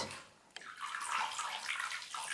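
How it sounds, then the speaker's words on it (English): Bath water in a tub with a baby: continuous close splashing and running water, a sharp slap near the start, then steady sloshing without talk. "Is it a shower and a bath all in one?"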